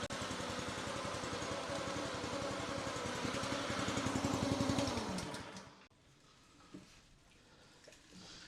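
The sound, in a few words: Revolution 26 reel mower engine running after pull start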